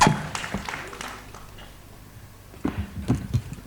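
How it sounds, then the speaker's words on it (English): A conference audience at an engineering education panel applauds the panel speakers with scattered claps that thin out in the middle, then a brief renewed burst of clapping near the end. "Once again, a very, very big round of applause to everyone"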